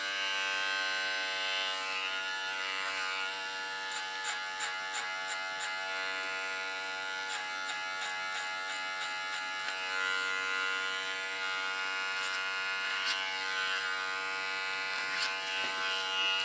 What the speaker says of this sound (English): Can use my clipper as a comb.